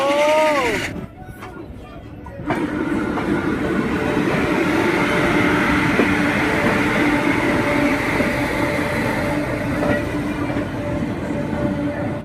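Passenger train running between Laksar station in Uttarakhand and Haridwar, a loud steady rumble of wheels and carriage noise after a brief horn-like tone at the start, with faint voices in the background.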